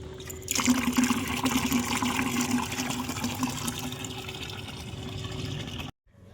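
Steady running water splashes and trickles close by while clothes are washed by hand, a continuous wet rush that stops abruptly near the end.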